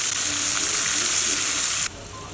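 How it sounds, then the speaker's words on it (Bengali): Sliced bitter gourd frying in plenty of oil in a wok, a loud, bright, continuous sizzle that cuts off abruptly near the end, leaving only a softer background hiss. "এখন কড়াইতে তেল দিয়ে দিলাম বেশ খানিকটা, এগুলাকে ভেজে নিব"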